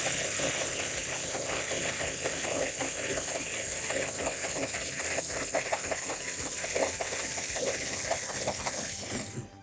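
Electric rotary cutter slicing through a stack of 16 fabric layers, a steady close whirring hiss with rapid ratcheting clicks running nearly ten seconds without pause before cutting off at the end.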